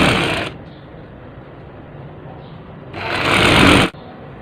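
A domestic sewing machine stitches the hem of a net curtain in two short, loud, close bursts of rapid mechanical whirring separated by a quieter pause.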